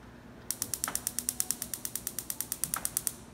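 Rapid, even clicking from the gas burner igniter on a 50 cm Technik cooking range, about twenty sharp snaps at a steady fast rhythm, close and fairly loud, with no talking.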